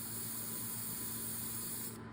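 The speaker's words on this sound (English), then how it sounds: "I'm spraying up the toe, so as the dye sprays up the toe, it blends evenly" Steady hiss of leather dye sprayed onto the toe of an Allen Edmonds McAllister shoe, continuous and close, with a faint mechanical hum, stopping just at the end.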